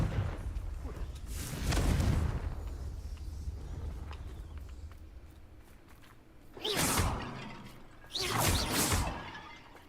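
Confringo blasting spells cast in Hogwarts Legacy, heard as three heavy whooshing bursts with booming impacts, one early and two close together near the end, separated by a quieter stretch.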